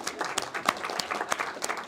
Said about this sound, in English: So go ahead and clap